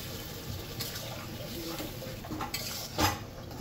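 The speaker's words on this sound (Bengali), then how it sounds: "এখন এই যে আমি হালকা করে জল দিয়ে দিব লাউয়ে" Water splashes lightly into a pan of cooking bottle gourd, a soft pour with stirring and clinking of a utensil against the pan, one louder splash near the end.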